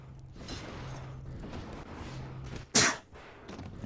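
A single sharp, loud sneeze bursts out near the end, standing well above a quiet background of faint hum and low room noise.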